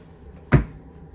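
A cruise ship cabin bathroom door on Virgin Voyages' Scarlet Lady swings and shuts with a single short, close thump in an otherwise quiet small room.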